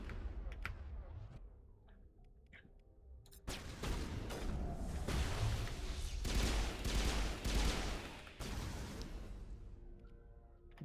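Sniper and other weapon fire in a Mass Effect Legendary Edition firefight, dense sustained shots and cracks at moderate level, with some clicking.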